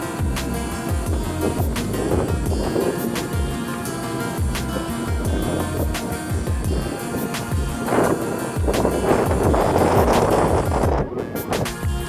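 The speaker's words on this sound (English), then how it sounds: "It's pretty windy, so hopefully you guys can hear all right." Strong coastal wind buffets the microphone in loud, continuous roaring gusts that swell and ease, with surf-like rushing and occasional knocks mixed in.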